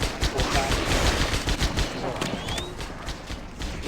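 Repeated shotgun blasts in the video game Halo SPV3, a few sharp, loud reports in the first two seconds over dense game noise, tailing into a steadier rumble with a brief whistle.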